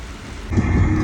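Steady rain patters on a surface, then grows suddenly heavier and louder halfway through, a dense continuous hiss with a low rumble beneath.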